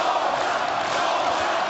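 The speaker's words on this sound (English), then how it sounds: "And the crowd rallying behind their man." Boxing crowd in an arena cheering for Kubrat Pulev during his fight with Dereck Chisora: a steady, dense roar of many voices, loud and unbroken for the whole moment.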